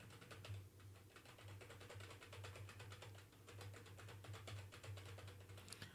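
Rapid clicks of typing on a computer keyboard, heard quietly through a USB microphone, fast irregular keystrokes running steadily over a low hum.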